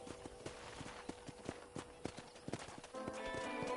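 Horse hooves clip-clopping at a steady walking pace in Red Dead Redemption, a close, regular rhythm of hollow beats, with music swelling in toward the end.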